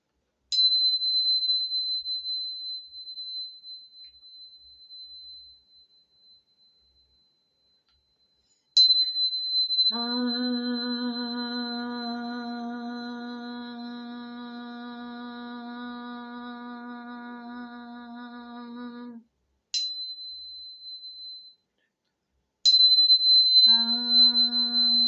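A crystal tuning fork is struck several times, alternating a clean pure ring with off-spot strikes that produce a duller, buzzier tone rich in lower overtones, each ringing for a few seconds in a quiet room.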